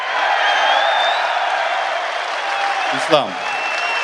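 A crowd at the UFC 284 pre-fight press conference for Volkanovski vs. Makhachev keeps up sustained applause and cheering, a steady wash of clapping with a brief louder burst near the end, while someone speaks over it.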